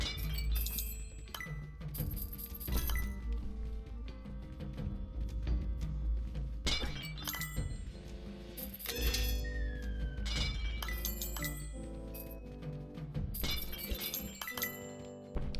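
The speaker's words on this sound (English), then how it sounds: "you lose money because it's smashing pots for you" Pots shattering in the video game Rogue Heroes: Ruins of Tasos, a rapid run of crisp clinks and breaking crashes repeating throughout over steady game music, with no talk.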